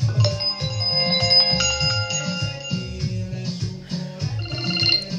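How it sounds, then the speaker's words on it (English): A phone plays a bright, bell-like ringtone made of a repeating melodic pattern. It is loud and close and plays alone, with no talking. "Let's do this ringtone. That sounds funny."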